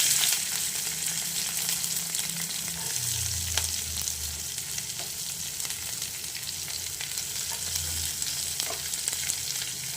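Green chillies sizzle and crackle in a hot pan with onions, a steady fry that runs without a break and with no talking over it.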